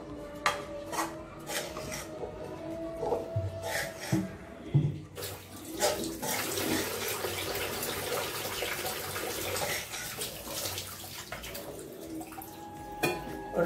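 A tumbler of water is poured into raw rice flour for pal kozhukattai dough, starting with a few light metallic clinks and then a steady close splashing pour with faint dripping.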